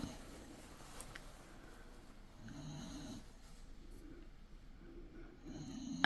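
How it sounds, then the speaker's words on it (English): Slow, rumbling snores from a sleeping dog rise and fall in a steady breathing rhythm, soft and close, with no talking. "He's sleeping in his bed right next to me, and he's snoring."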